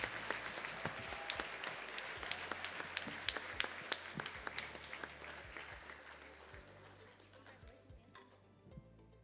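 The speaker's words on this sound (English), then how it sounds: "let's give them a big round of applause" Sustained applause from an audience at a high school decision day ceremony honoring a university football team, steady dense clapping that continues for several seconds and thins out toward the end.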